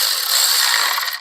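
A ratchet clicks rapidly as it tightens a bolt on a 1965 Ford Fairlane, a quick run of close metallic ticks that slows and stops at the end.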